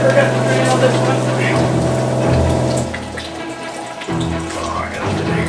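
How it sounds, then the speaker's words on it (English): Rain falling outdoors with a steady wash of drops, joined by a continuous mechanical hum, and someone speaking over it. "Oh crap, it's raining."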